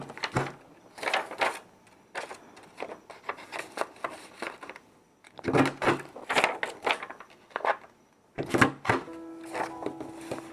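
A corner punch rounds off the corners of a handmade watercolor card, giving a series of sharp clicks and thunks in uneven bursts, close and fairly loud, with quiet pauses between the groups of presses.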